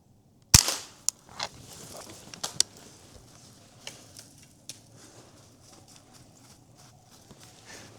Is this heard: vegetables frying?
no